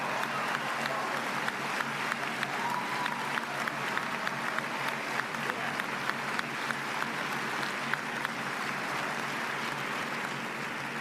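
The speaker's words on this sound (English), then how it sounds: "give yourself a round of applause," A dense round of applause from a large audience, steady and continuous for the whole stretch, with many hands clapping at once and no voices standing out.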